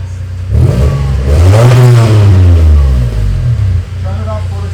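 Lexus ES250 engine rising in a strong rev that swells, sweeps upward and falls back, loud and close, with a voice speaking under the engine noise.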